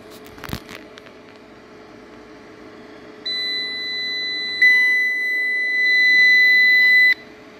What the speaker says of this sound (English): The alarms.